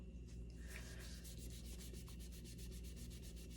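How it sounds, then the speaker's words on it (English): Steady rhythmic rubbing as paint is stripped off a vinyl reborn doll kit, a quiet, close scrubbing repeated in regular strokes with no talking. "And you just rub it just like that."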